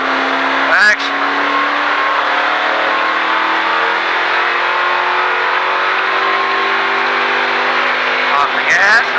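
A race car engine at the Richard Petty Driving Experience at Disney drones loudly and steadily as it pulls along the track, with a rising pitch and short spoken instructions near the start and end.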